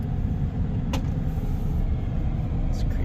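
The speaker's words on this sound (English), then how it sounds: "Look at all the traffic on the other side." Road traffic heard from inside a moving Tesla Cybertruck, a steady low rumble of tyres and engines with a couple of brief whooshes as vehicles pass, loud and continuous.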